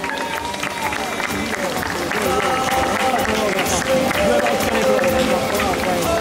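An audience at the Miss Vesuvio beauty pageant in Battipaglia applauds the jury, with dense, sustained clapping over music and a loudspeaker voice throughout.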